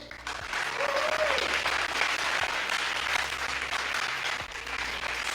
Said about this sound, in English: so big applause for Sealio